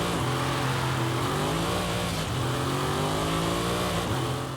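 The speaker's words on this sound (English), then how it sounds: "let's go ahead and take a listen to that 4-litre engine" An Audi RS6-R Avant's 4-litre engine in Forza Horizon 5 revs hard and steadily, its loud droning tone climbing and dipping through a few throttle blips with no talk over it.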